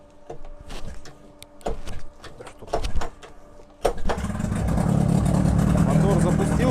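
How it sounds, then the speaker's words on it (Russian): A large, heavy outboard boat motor, remote-controlled without a tiller, gives a few clicks and cranking bursts before it catches, then runs with a steady, fairly loud mechanical drone. "Мотор запустился, правда не с первого раза, тяжелый большой мотор, скорости включаются."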